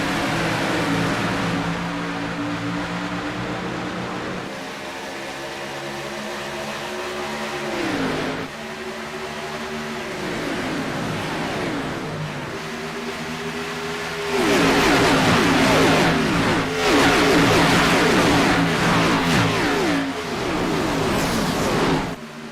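Race car engines in an iRacing stock-car playoff race at Las Vegas scream together at full throttle, a loud, continuous multi-car drone with rising and falling pitch as the pack passes, swelling louder near the end.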